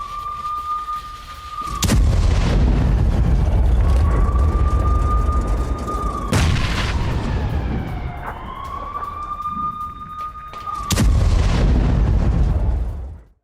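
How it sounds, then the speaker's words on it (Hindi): A Russian howitzer fires on Ukrainian positions in Donetsk, three loud booming blasts spaced a few seconds apart, each followed by rumbling echo, with a steady high whining tone running between the shots. "होवित्जर से भी यूक्रेनी ठिकानों पर हमला किया गया"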